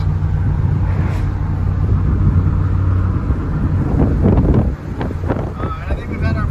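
A 90s Chevy truck with a big block engine drives along with a low steady rumble under heavy wind buffeting, and a voice speaks briefly near the end.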